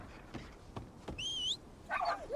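Sled dogs in the video game Fade to Silence bark and yip in a handful of sharp, rapid calls, followed by high whining whimpers, mid-distance, with no speech.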